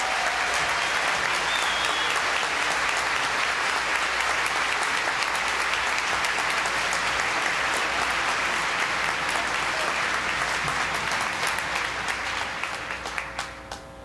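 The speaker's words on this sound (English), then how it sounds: "have earned a round of applause from us all." A large crowd at a Georgetown class reunion attended by President Clinton applauds three classmates, a loud sustained wash of clapping lasting about fourteen seconds before tapering off at the end.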